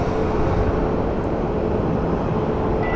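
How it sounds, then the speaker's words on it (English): A United Boeing 757 airliner takes off on departure at Phoenix Sky Harbor Airport, giving a steady, loud, broadband jet roar that holds for the whole stretch with no voices. "All right, let's go to that United plane. He's cleared for departure. I love the sound of the 757s."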